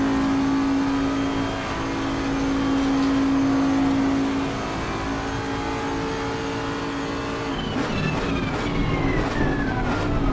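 A Bentley GT3 race car engine in a sim racing game drones loudly and steadily, then its pitch changes as the revs rise and fall near the end, with no voices.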